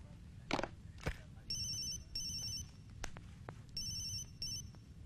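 A phone's electronic ringtone chimes in repeated short bursts, with a few sharp knocks and faint background noise between rings.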